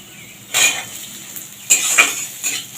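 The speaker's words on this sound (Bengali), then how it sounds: "তবে রসুনটাকে কিছুক্ষণ ভেজে নিচ্ছি। এবারে দিয়ে দিচ্ছি পেঁয়াজ কুচনো।" Chopped onion tossed into a pan of frying garlic for a raw banana mash, heard as a few distinct metallic clanks and scrapes of a utensil against the pan over a faint hiss.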